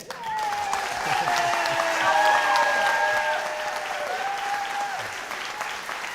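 An audience applauds at the close of the 2018 Ohio U.S. Senate debate between Jim Renacci and Sherrod Brown; sustained dense clapping swells and then holds, with music playing beneath it.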